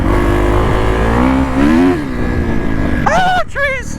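An off-road vehicle's engine drones and revs loudly on a wooded trail, rising and falling in pitch up close while voices talk over it.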